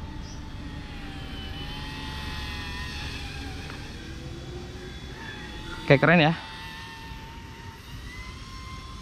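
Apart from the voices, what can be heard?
Eachine E120 RC helicopter motor whining in flight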